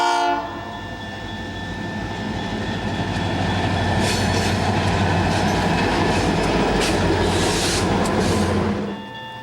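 EMD GP40-2 locomotive 3101, in Rio Grande paint, rolls out of Mormon Yard on the BNSF: a loud, steady diesel roar with wheel rumble, a long sustained horn tone and a brief burst of horn blasts, fading at the end.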